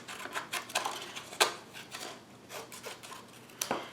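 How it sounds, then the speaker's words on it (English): Scissors trim a sheet of Coastal Cabana cardstock in quiet, scattered snips and rasping cuts, with one sharper snip near the middle and another toward the end, at close range with no talk. "So I am gonna be cutting out this Mary from a piece of Coastal Cabana cardstock. I'm gonna trim this down"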